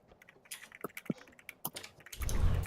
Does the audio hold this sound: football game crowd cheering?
no